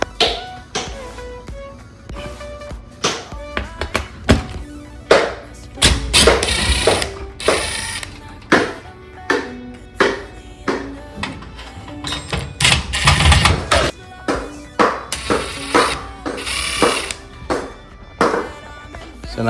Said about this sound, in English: So all I'm just gonna do is remove these bolts.